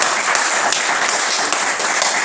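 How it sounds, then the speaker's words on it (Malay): Loud, dense audience applause at a business sharing session, a continuous bright wash of clapping with no voices over it. "Beri tepukan kepada mereka berdua"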